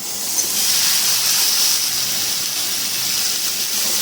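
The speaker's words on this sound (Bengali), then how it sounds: "সেদ্ধ করা সবজিগুলো একটু কষিয়ে নেব খুবই কম তেলের মধ্যে" Boiled vegetables frying with turmeric and tomato in very little oil, giving a steady close hiss like steam that stays even for the whole stretch, with no talking.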